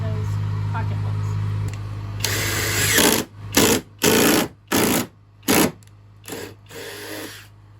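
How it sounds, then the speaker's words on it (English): A paddle bit bores a hole through the underside of a wooden stand's top, the drill whirring in loud bursts that start and stop several times in a stuttering rhythm, with a steady hum underneath. "using that paddle bit to drill the hole through the top of The bottom of the top"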